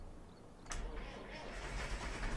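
A vehicle engine in the Sandy Bay Farm farming game cranks and catches with a sudden burst, then settles into a steady, building rumble; faint and close.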